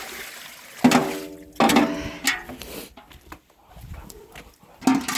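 Water gushes into a washtub for ducks on a farm, coming in several loud bursts with gaps between, mixed with brief honking calls.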